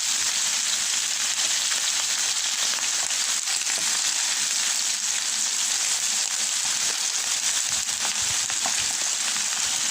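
Garlic frying in a pan for a lemon-garlic salmon dish, giving a loud, dense, continuous sizzle that stays steady throughout, with no voices.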